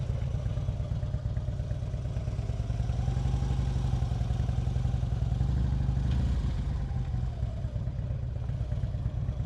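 Motorcycle engine held at raised RPM in the friction zone during slow-speed braking practice, a close, steady throbbing idle-to-mid rev with slight swells and dips, no talk.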